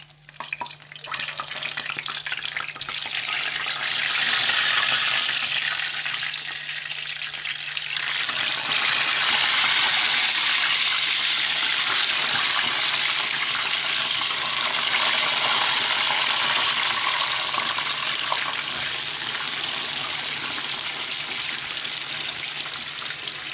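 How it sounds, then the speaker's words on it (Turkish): Steady broadband sizzling hiss of eggplant frying in hot oil, continuous and fairly loud throughout, with a low hum underneath and no talking. "şimdi patlıcanlarımızı kızartmaya başlıyorum"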